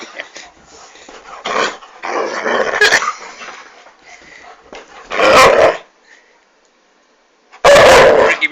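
A dog barks and growls in loud bursts separated by quieter stretches of whimpering and rumbling, close to the listener and without any talk.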